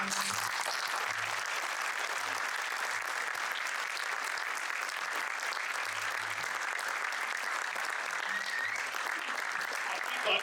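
A theatre audience gives sustained applause after a Hindi stage drama performed by a theatre group. Dense, even clapping from a large crowd runs unbroken for about ten seconds, with faint murmurs underneath.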